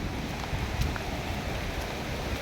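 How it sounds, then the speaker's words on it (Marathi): Heavy monsoon rain in the Konkan region, a steady dense wash of noise that holds evenly throughout without pauses, fairly loud and close, with no talking. "आज पंधरा मेला कोकणात तुफान पाऊस चालू झालेला आहे बघू शकतो आपण"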